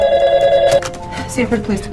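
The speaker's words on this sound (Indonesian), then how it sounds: "terdengar telepon yang berdering kembali" A telephone bell rings with a bright, steady trill in a horror film, followed by a voice speaking over the fading ring.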